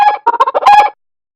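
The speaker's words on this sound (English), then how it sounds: "Keep it up. Chicken." A chicken clucks and calls in a quick run of short, loud, close notes, heard alone.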